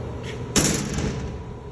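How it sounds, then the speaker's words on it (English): The door of a Russ Electric 2000 machine shuts with a single sharp thud against steady background noise, leaving a brief rumbling tail. "So, close the door"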